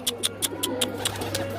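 A kalsira pigeon perched on a rooftop gives a series of soft, repeated coos at a steady rhythm, fairly close and clear over a low steady background hum.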